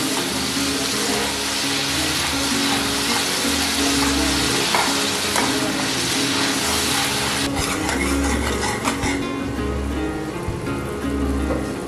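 Two chopped medium tomatoes fry in a pan for Punjabi dal makhani, giving a steady, close sizzle with occasional stirring and no talking.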